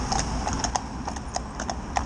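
Gelderlander horses walk with a steady, irregular clip-clop of hooves, fairly close and moderate in level over a low background rumble.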